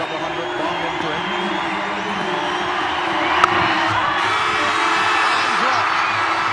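A test match cricket crowd cheers and roars as Chris Gayle of the West Indies nears a double hundred, a loud sustained stadium crowd swelling after a sharp bat crack, with commentary over it.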